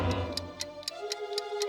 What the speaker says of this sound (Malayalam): ഇതിന്നെന്താ ടിക് ടിക് ടിക് ശബ്ദം വരുന്നേ?